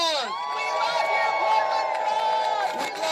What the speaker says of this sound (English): Let's give the Portland Frog a round of applause.